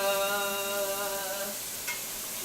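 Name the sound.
steak searing in a hot pan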